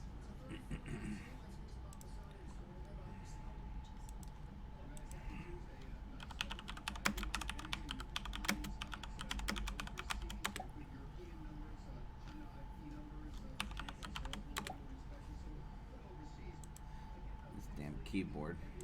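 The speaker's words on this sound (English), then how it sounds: "Keyboard." A computer keyboard clatters with quick bursts of typing at a trading desk, moderately close, under a low steady hum and some faint background noise.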